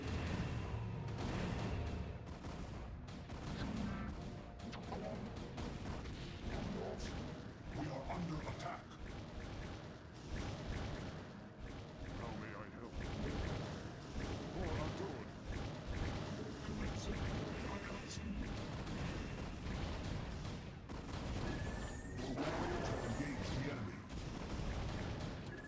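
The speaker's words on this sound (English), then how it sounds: "I guess I'm gonna have to destroy this cannon." Protoss units in StarCraft attack a photon cannon: dense, continuous volleys of weapon fire and crashing impacts run throughout, loud and busy, with game voice lines mixed in.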